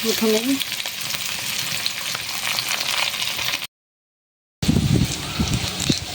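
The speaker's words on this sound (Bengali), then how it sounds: "দিয়ে দেবো পেঁয়াজ কুচি, দিয়ে একটু লাল লাল করে ভেজে নেব।" Chopped onion fries loudly in hot oil in a pan for a Bengali chicken dal bhuna, with a dense, continuous sizzle and a brief break, while a voice speaks briefly.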